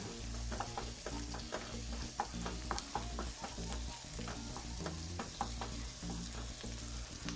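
Half of four white onions sizzle and spit in a hot pan for sisig, with steady close frying and occasional stirring clatter throughout, no voices.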